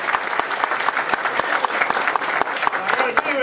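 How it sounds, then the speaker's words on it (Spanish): Crowd at a political party rally applauds, a steady, loud roar of many clapping hands with distinct sharp claps throughout, voices mixed in beneath. "vamos a dar otro aplauso"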